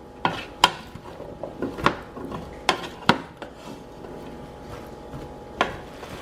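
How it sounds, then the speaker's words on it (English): A spoon stirs creamy potato and bacon soup with potatoes and onions in a pot on medium heat, giving a run of sharp scrapes and clinks against the pot at irregular intervals over a faint background. "I'm going to stir this, and I am going to cook this for about 7 minutes on medium"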